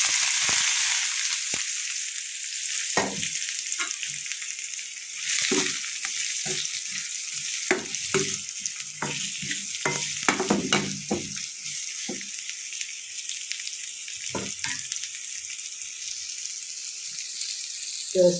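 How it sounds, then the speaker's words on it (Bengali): Chopped onions frying in oil for an egg curry make a steady high hiss of sizzling, broken by irregular clacks and scrapes of a spatula, close and moderately loud with no talk. "পেঁয়াজ কুচিগুলো তেল দিয়ে ভেজে নেব।"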